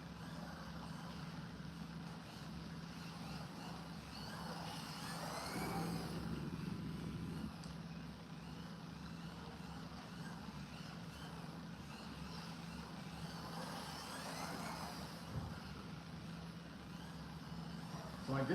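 A Kyosho MR04 LM Mini-Z radio-controlled car on cold tires runs laps, its faint, steady motor whine swelling twice as it speeds past.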